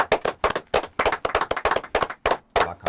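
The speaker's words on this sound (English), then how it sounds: "Can I get a round of applause?" Sharp, close applause added on a UK rap podcast, as loud crisp claps in a rapid uneven burst with short gaps, with no voices over it.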